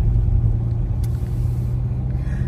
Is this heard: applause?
no